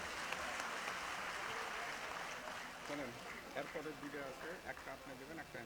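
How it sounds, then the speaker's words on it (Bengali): An audience at a digital memorial inauguration ceremony in a Bogura auditorium claps loudly and continuously, a dense wash of applause that gradually thins, with a voice faintly audible beneath it. "সবাই জোরে করতালি দিয়ে"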